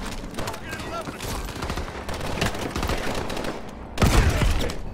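Gunfire from a shotgun in the video game Call of Duty: Advanced Warfare, with loud, dense blasts through the campaign's battle din and a heavier burst near the end.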